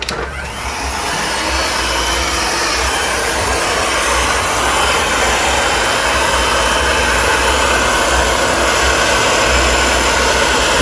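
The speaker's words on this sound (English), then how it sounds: "This is a commercial heat gun." A commercial heat gun, used on type 2 wallcovering to flatten a seam, starts up and then runs continuously with a loud, steady blowing roar and whine, close by and without speech.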